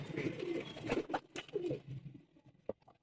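Teddy pigeons in a crowded loft give soft, overlapping throaty coos close by, with a brief flutter or rustle near the end and no talking.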